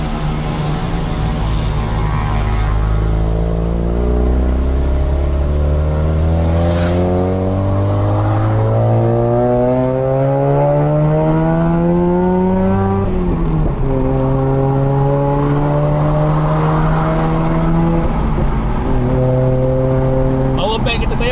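Mazda RX8 with a rotary engine, revving up and down in loud, sustained sweeps that climb and dip with rising pitch, close to the listener and filling the whole stretch without pause.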